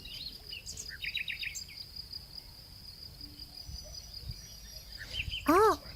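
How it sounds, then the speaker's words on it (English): Small birds chirp and trill in short bursts against a constant high insect-like buzz, with a louder cluster of calls close by near the end; no talk is heard. "Is it all the bird sounds?"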